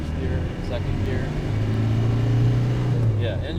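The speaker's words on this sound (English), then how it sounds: "engine runs nice and strong" A 1994 Land Rover Defender 110 with the 300Tdi diesel engine running while driving on the road, a steady low engine drone with road and cabin noise, holding constant loudness throughout.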